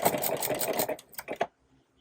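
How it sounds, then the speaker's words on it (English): A sewing machine running a zigzag stitch through old jean denim, a close, rapid mechanical whir that stutters into a few separate stitches and then stops abruptly. "I am going to sew"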